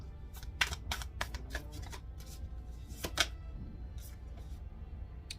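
Quick bursts of riffling tarot card shuffles, several crisp flurries spaced over a few seconds, fairly close and quiet with no talking.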